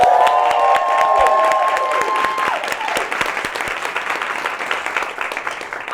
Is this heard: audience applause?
yes